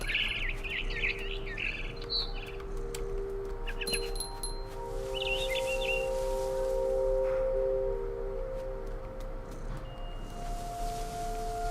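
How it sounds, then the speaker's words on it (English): A barn swallow from What Remains of Edith Finch chirps in quick clustered bursts early on, then again a few times more sparsely, set against a quiet humming game ambience with sustained tones. "It was a barn swallow going back to her nest."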